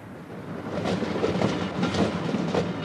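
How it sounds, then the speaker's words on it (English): An electrification works train rolls slowly into place at midnight on the line near Norwich, its wheels giving a soft rhythmic clatter over the rails at moderate distance with a low rumble underneath. "a special electrification works train is moving into place"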